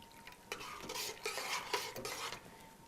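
A spoon stirs homemade brown stock into a pot of West African pepper soup, giving a few quick scraping, sloshing strokes against the pot with a light sizzle underneath.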